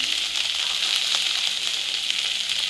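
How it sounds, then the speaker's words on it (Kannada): Capsicum frying in a pan with spice powder and a pinch of salt gives off a steady, even sizzle throughout, close and continuous, with no voices. "ಇನ್ನೊಂದು ಎರಡು ನಿಮಿಷ ಚೆನ್ನಾಗಿ ಫ್ರೈ ಮಾಡ್ಕೊಬೇಕು"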